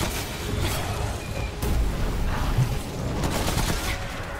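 An enemy gunner opens fire in Remnant: From the Ashes, sustained rapid gunshots and booming bursts rolling continuously at close range, loud and dense throughout.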